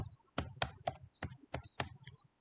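A computer keyboard typing out an email address on a login page: about seven evenly spaced, close and clear keystrokes in a short burst, then quiet, with no voices.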